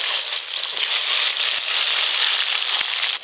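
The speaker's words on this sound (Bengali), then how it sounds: "প্রথমে পেঁয়াজ কুচি আর রসুন বাটা খুব ভালো করে ভেজে নেব।" Chopped onion and garlic paste fry in hot oil with a loud, continuous sizzle and crackle, a steady hiss broken by occasional pops from the pan.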